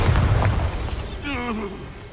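A Bombarda spell explodes in Hogwarts Legacy with a loud, close boom and a brief rumbling burst that trails off into a sweeping magical shimmer.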